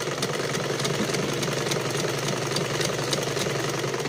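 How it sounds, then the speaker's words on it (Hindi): A sewing machine stitches a bias-cut fabric strip, running at a steady even pace with a fast, regular mechanical chatter of needle strokes, close and continuous with no talking. "इस तरह से सिलाई करेंगे मशीन के एक पांव की"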